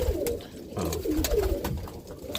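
Roller pigeons coo close by in soft, repeated throaty calls, several rolling coos over a couple of seconds, with no talk over them.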